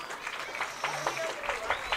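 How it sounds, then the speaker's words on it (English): Crowd applause at a middle school football game between the LCO Bulldogs and 6th Ward Bluejays, a steady outdoor clapping wash with faint voices mixed in. "A round of applause."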